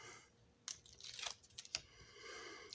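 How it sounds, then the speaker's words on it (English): Backing peeled from foam tape while making a paper slider card, a few quick close ripping and crinkling bursts between soft handling rustles. "So now I'm going to go ahead and take the backing off all this foam tape."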